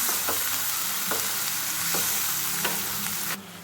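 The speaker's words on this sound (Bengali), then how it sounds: "এখন আমি এর মধ্যে বেটে রাখা মশলাটা ছেড়ে দিলাম।" Browned onions and a ground spice paste frying in a pan for a chicken kabab gravy, giving a loud, continuous close sizzle with soft periodic stirring scrapes and no talk.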